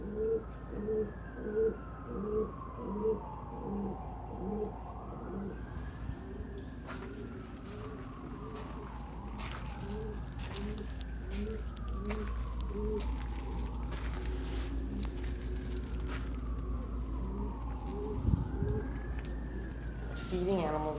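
Rock pigeons (Columba livia) coo in a repeated, rhythmic series of soft, throaty calls. A siren rises and falls steadily in the background.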